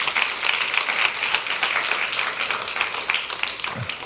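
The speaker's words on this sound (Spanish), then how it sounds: "A ver, un aplauso al Señor." Steady applause from a church congregation during a worship service, many hands clapping together at moderate volume and sustained without pause throughout.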